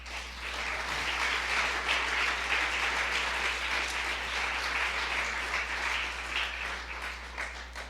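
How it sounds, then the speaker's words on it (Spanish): Sustained applause from a church congregation fills the room, a steady dense wash of clapping that holds evenly for the full stretch without pause. "¿Le quieres dar un aplauso a tu rey?"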